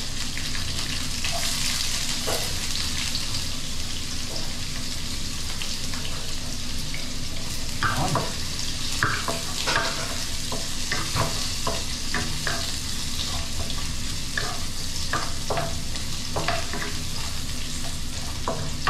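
Onion and ginger fry in a pan with a steady hiss, while a spatula scrapes and knocks against the pan in irregular strokes through the second half.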